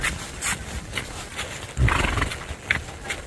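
An 8-year-old, 16-hand gaited stud horse on a trail ride gives a loud whinny in the middle, with hoof clip-clops and rustling before and after it.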